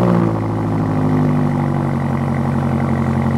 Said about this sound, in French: Voici le bruit du démarrage.